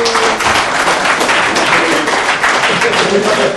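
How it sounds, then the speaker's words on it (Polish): Applause at a karting season awards ceremony fills the hall with dense, continuous clapping from a crowd, loud and close, with a voice speaking through it. "ogromna brawa dla Mikołaja i zapraszam Cię tutaj"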